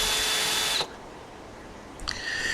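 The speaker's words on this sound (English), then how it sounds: "I'm putting 2 of these very long screws in the ends of each timber" Combi drill driving a long screw into the end of a timber for a shed subframe, a loud whirring burst that stops abruptly, then a quiet pause before the motor spins up again.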